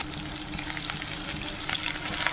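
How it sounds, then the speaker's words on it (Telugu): Onion pieces with ginger garlic paste, rock salt and turmeric fry in hot oil for an egg biryani, giving a steady close sizzle with faint crackles and stirring scrapes and no talking. "ఆయిల్ హీట్ అయిన తర్వాత ఉల్లిపాయ ముక్కలు వేసుకోవాలి"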